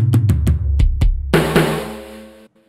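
An acoustic drum kit sample from an SPD-SX sample pad plays a short pattern of punchy kick and snare hits, ending in a ringing cymbal crash that cuts off abruptly.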